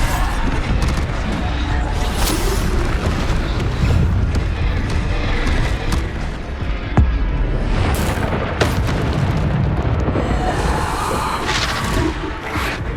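Bombarda spell explosions go off in Hogwarts Legacy combat as a dense barrage of booms and blasts, loud and close and overlapping with crackling bursts throughout.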